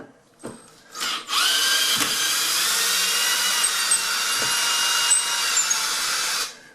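A cordless drill whines steadily for several seconds at close range after a couple of brief starts, backing out a 2 to 2.5-inch screw from a door, then stops.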